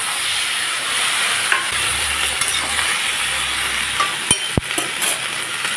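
Mixed vegetables including Malabar spinach stems frying in hot mustard oil with panch phoron, a loud steady sizzle with intermittent scrapes and clinks of stirring toward the end, no voices.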